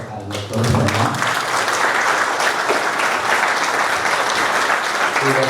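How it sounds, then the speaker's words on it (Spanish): Loud, dense audience applause for a doctor after a talk on women in stingless-bee keeping, starting after a brief voice and sustained to the end. "vamos a darle nuevamente un fuerte aplauso al doctor Román"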